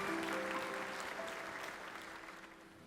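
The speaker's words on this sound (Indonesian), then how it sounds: "Kasih tepuk tangan sekali lagi buat Tuhan Yesus" A church congregation applauds at an Ascension Day service, a broad, sustained wash of clapping that slowly tapers off. Faint tonal music lingers underneath.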